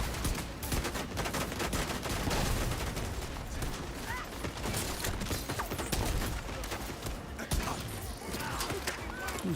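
Sustained gunfire in The Division 2, rapid overlapping bursts and automatic fire crackling continuously at close range, with mechanical clicks and rattles woven through the firefight.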